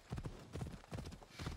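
Hooves of a horse clip-clop at a quick, galloping rhythm in Assassin's Creed Odyssey, with steady thudding beats heard close up and no talk.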